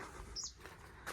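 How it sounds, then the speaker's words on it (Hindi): Birds chirp on the bank of the Narmada river in an open outdoor setting, with a few faint, brief high tweets over soft ambient background noise. "पक्षी भी बोल रही है"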